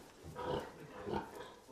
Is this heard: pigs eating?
yes